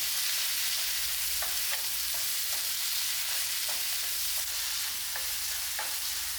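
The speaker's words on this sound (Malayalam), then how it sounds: "തക്കാളി നുറുക്കിയത് അത് ചേർത്ത് കൊടുക്കാം." Chopped tomato stirred into a frying masala for a prawn curry: a soft continuous sizzle with regular light scraping strokes of a spoon against the pan, fairly quiet and without voices.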